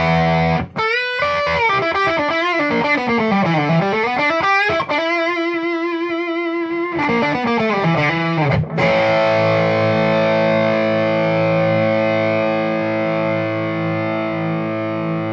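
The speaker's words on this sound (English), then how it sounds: "you're going to hear a real big raise in the level of distortion." An electric guitar played through a Hao Rust Driver distortion pedal at high gain, with gritty bends and slides, several picked phrases, then a long sustained ringing chord, loud and alone.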